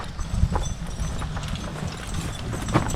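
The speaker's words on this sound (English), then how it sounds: "here he's coming out of the woods with the horses" Horses hauling a load of logs out of the woods clop along steadily, hoof strikes landing in a loose rhythm over a constant outdoor background, with a couple of louder knocks standing out.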